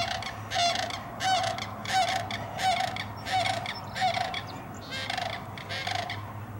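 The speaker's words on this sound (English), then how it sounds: "Oh, the cranes are in the background." Cranes call from the background at a nature center pond, a series of honking, trumpeting cries repeating in loose bursts at moderate distance with no talk.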